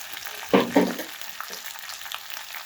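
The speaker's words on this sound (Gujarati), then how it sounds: "ભીંડા આપણા સીધા પડી જાય તેમાં ત્યાં સુધી આપણે એને ચલાવી અને ફ્રાય કરવાનું છે" Okra (bhindi) fries in oil in a pan, with two clattering stir bursts near the start, then a quieter, steady crackling sizzle that continues alone without any talking.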